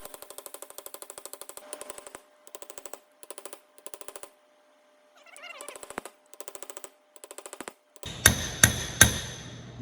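Light metallic hammer taps on an Allis Chalmers WD tractor rear end bearing come in rapid even bursts with short pauses, closing with three louder, heavier ringing blows, close up and without talk.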